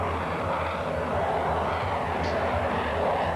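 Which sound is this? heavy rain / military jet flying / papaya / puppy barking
military jet flying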